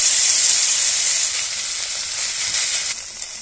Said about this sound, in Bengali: দেখো দেখো আবারও একটা এইভাবে আমি ভেজে নেব।